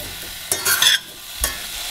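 Sweet apples stew in a pan with sugar, a spoon scraping and stirring through them in two short bursts over a steady soft sizzle.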